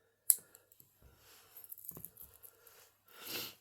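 A few small, dry snips as the tag end of fishing line is trimmed, quiet and close in a still room, followed by faint rustling.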